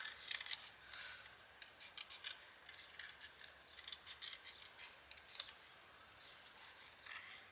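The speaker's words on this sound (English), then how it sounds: "So I'm just going to kiss cut around our Santa." Small blade kiss cutting around a Santa paper cutout for Christmas tags, giving soft, quiet snipping and scraping strokes in an irregular rhythm, close up with no talking.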